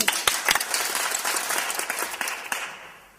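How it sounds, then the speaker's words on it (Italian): A group applauds a professor: brisk clapping with several crisp individual claps, starting lively and then gradually tapering off to quiet by the end. "facciamo un applauso professore, su!"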